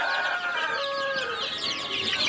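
A chick peeps in a quiet farm setting, giving a series of thin, high chirps and short trills that rise and fall, with faint clucking fowl sounds behind them.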